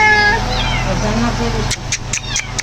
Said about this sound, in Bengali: চলো বিলাই ছাও দেখবো